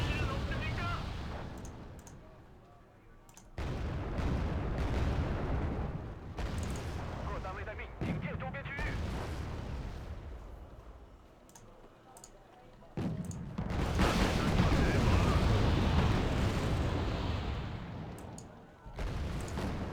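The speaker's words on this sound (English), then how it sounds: "Make sure all those ZBDs are firing" Chinese ZBD armoured vehicles fire in Wargame: Red Dragon, with repeated booms and bursts of gunfire rising and falling amid rumbling battle noise.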